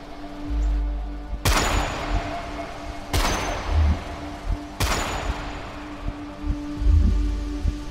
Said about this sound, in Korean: 새벽에 울린 세 발의 총소리와 함께 이 이야기는 시작됩니다